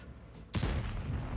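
A sudden heavy boom of an artillery gun firing in a World of Tanks game, followed by a sustained rumbling roar that holds steady for the rest of the moment.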